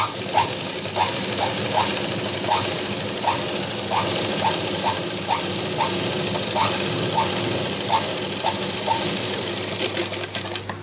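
A sewing machine stitches small blouse fabric pieces together, a close, steady whirring motor overlaid with a quick regular clicking of the needle across the whole stretch.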